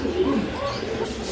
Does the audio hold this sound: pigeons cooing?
yes